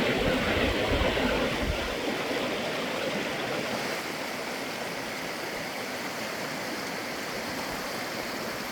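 Fall Creek flowing steadily near a culvert, a continuous broadband rush of water close by that holds a constant level throughout, with a slightly heavier surge in the first two seconds.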